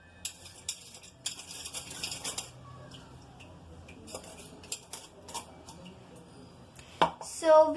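Mug cake batter is stirred in a mixer bowl, with repeated clinks and scrapes of a utensil against the bowl in an irregular rhythm, close and moderately loud, ending in a sharper rattle.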